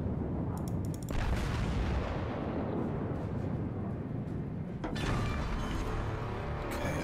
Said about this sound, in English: Full broadside.